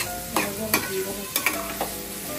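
Sliced ridge gourd fries in a pan while being stirred, with a soft continuous sizzle broken by several sharp scraping strokes of a spatula, close and fairly quiet.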